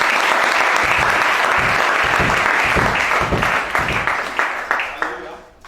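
Sustained, loud applause and clapping from a church congregation cheering for Jesus during a sermon on the beast and the false prophet; it stays dense throughout, then thins into scattered claps near the end.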